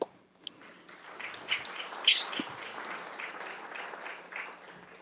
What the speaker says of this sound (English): you'll all stand up so we can give you some applause